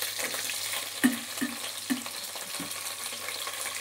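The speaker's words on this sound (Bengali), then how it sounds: "প্রথমে একটু ভাজা করে নেবো ঢ্যাঁড়সগুলোকে।" Okra sizzles in hot oil seasoned with black cumin in a pan, a steady frying hiss broken by a few sharp knocks of a spatula stirring it, with no talking.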